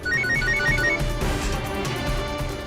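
A phone ringtone trills in short repeated bursts over a busy, steady background with music-like tones, in a TV drama scene as a call comes from the mansion.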